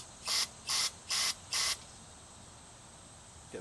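Carburetor cleaner sprayed through a carburetor passage to check fuel flow: four short, evenly spaced hissing bursts, each about a quarter second, close and crisp, followed by quiet.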